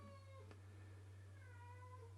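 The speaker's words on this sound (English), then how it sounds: "Do you hear my cat in the background?" A house cat meows faintly in the background of a quiet indoor room, a short drawn-out call over a steady low electrical hum.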